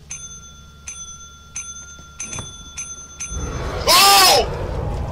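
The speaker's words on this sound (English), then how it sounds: "And then you just ring that bell, Coos." A bell rung repeatedly in the Lethal Company video game, with about six bright, evenly spaced dings sounding close and clear, followed by a burst of louder noise and chatter.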